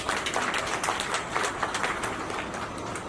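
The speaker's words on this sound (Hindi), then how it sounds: "तो ऐसे व्यक्ति के लिए आप सब एक बार मेरी तरफ से जोरदार ताली बजाएं।" Sustained crowd applause fills a hall at a Dr. Bhimrao Ambedkar Federation gathering, a dense steady patter of many hands clapping at once with no break, fairly loud throughout.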